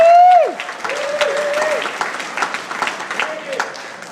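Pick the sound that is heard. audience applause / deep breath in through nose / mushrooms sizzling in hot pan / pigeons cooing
audience applause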